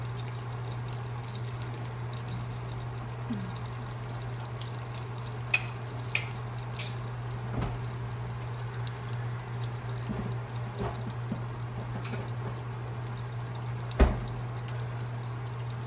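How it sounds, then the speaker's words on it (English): Fish fry in a pan for a Jamaican coconut curry fish, a steady low sizzle and crackle running throughout with a constant hum beneath and a few sharp kitchen clicks and taps, no talking. "so let's leave those fish to fry"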